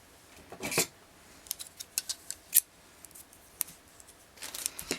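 Small scissors snip beading thread close by, a few sharp isolated clicks and snips with quiet pauses between them.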